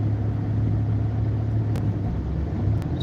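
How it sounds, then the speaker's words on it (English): Heavy road traffic heard from inside a moving car: a steady low engine and road rumble with a faint hum, continuous and even throughout, with no talking. "Just heavy traffic right now."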